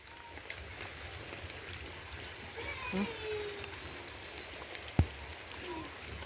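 Steady rain patters on a surface outdoors at a plant-growing spot, a continuous soft hiss with a single sharp knock partway through.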